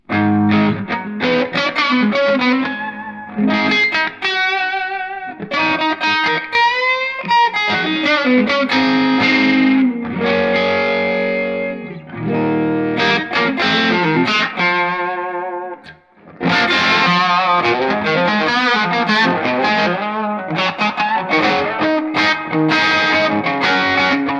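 A distorted electric guitar plays loud, thick chords and riffs through a Jet City Pico Valve amp, both pickups in full humbucking mode, reverb off, with a full, saturated tone, broken by a couple of brief pauses.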